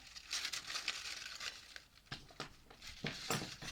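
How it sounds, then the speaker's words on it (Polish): Adhesive tape is pulled and pressed onto crepe paper while a red and white paper flower is made, giving a run of irregular crinkling, rustling and sharp tearing bursts at close range. "Przyklejamy taśmę."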